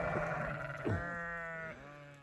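Sheep and little lambs bleat close by, one long wavering cry overlapping with other shorter bleats, fairly loud and with no speech.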